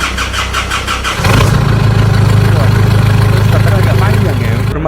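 An Isuzu D-Max diesel engine cranks and catches, then settles into a steady, loud idle close by, with a low drone running alone to the end.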